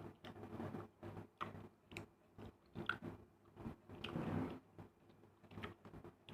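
Close, quiet chewing and biting while eating mussels, with irregular soft crunchy bites and mouth sounds repeating steadily and no talk.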